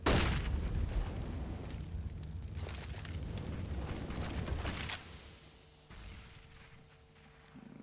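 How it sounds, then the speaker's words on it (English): Grenade blast in Counter-Strike on the map Train during a pro match, a loud broad boom that rolls through the first five seconds, then drops to quieter game ambience with a faint steady hum. "Nice little nade there to do a fair bit of chip damage on the 3 other North players"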